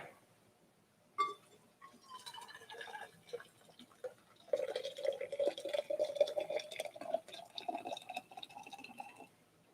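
Water trickles and fills into a pour-over coffee setup after a sharp clink, a soft steady stream rising in pitch as the vessel fills, quiet and close with no talking.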